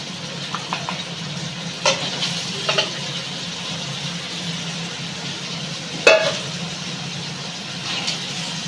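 Duck meat hits a pan of fried spices and sizzles in a steady broadband hiss, with a few soft clacks from stirring and a faint low hum underneath.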